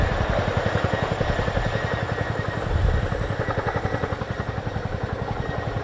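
An RAF Chinook HC.6A twin-rotor helicopter in a flying display, its loud rhythmic blade thudding and turbine roar steady and close throughout, no talk over it.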